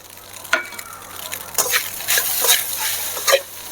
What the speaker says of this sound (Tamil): இந்த உருளைக்கிழங்கு, இந்த ஆனியன் பொரிச்சு வச்ச ஆனியன் எல்லாத்தையும் கலந்துக்கணும்